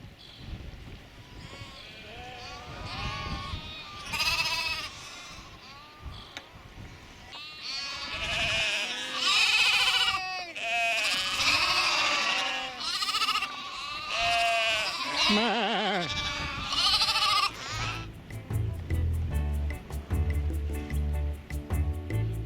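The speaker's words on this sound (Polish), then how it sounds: "trafiłem na tutejszą farmę owczą, gdzie akurat owce są liczone i cechowane." Sheep on a Shetland sheep farm, where the flock is being counted and marked, bleat repeatedly with many overlapping calls from near and far, followed by a steady low rumble toward the end.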